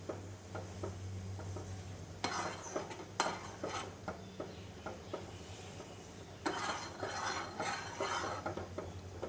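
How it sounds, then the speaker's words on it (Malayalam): Urad dal batter stirred into boiling water in a metal pot, with repeated scraping and clinking of a spoon against the vessel in irregular strokes, louder bursts of stirring and a low steady hum beneath. "തിരിച്ച് മാവിട്ട് ഇളക്കിക്കൊണ്ടിരിക്കണം."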